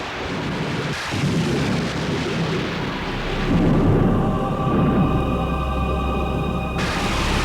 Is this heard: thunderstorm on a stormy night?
yes